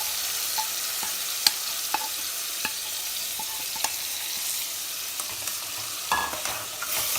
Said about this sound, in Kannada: ಈಗ ನಾವು ಫ್ರೈ ಮಾಡ್ಕೊಳ್ಳೋಣ.